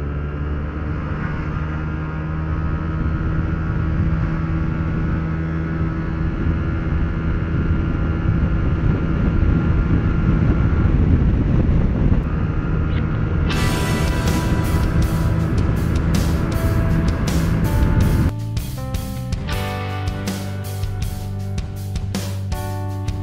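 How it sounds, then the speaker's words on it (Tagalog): Road traffic passes around a Yamaha Aerox 155 scooter with a modified CVT, its engine droning steadily near and loud while vehicles and a truck pass, with the engine tone shifting partway through the ride. "Daming daming sasakyan."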